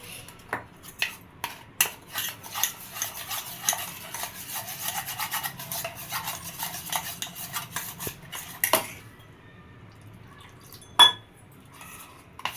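A spoon stirs sugar and water together in a dish to make a thickened syrup for homemade kulfi, with quick clinking and scraping taps in a busy run, then a pause and one sharp knock near the end.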